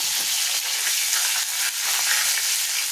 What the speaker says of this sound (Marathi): तेल तापलं की त्यात टाकूया मोहरी, थोडेसे जिरे, हिंग आणि कढीपत्ता